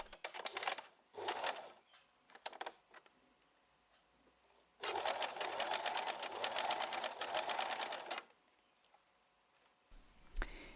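Sewing machine stitching lace onto a bodice, set to a stitch width just under 3 and length about 1.5, heard in short bursts then one long steady run of several seconds, close and alone.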